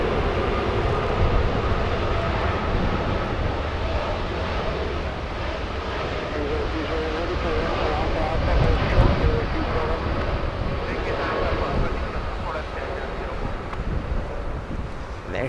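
An Aeromexico airliner at Los Angeles International Airport gives off a sustained, fairly loud jet engine roar heard from a distance, mixed with gusty wind buffeting on the microphone and a low rumble throughout.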